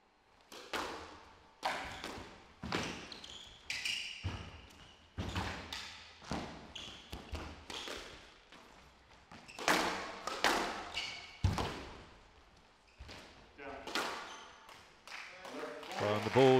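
Squash ball struck repeatedly during a men's first-round match at the 2018 Hong Kong Open, sharp thuds and bounces in quick rallies over roughly sixteen seconds, with a commentator talking throughout.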